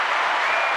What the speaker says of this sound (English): let's give a round of applause to Ivy L